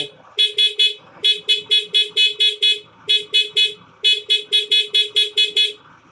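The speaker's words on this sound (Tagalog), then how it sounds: "May busina." Rapid bursts of short horn beeps from a Yamaha NMAX V2 motorcycle in rhythmic groups, loud and close, repeating several times with brief pauses between.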